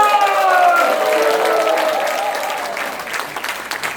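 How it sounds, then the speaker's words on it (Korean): A seated audience at a Korean mission conference lecture breaks into warm, sustained clapping that slowly thins out, with a voice briefly heard over the applause near the start. "다시 한번 뜨거운 박수"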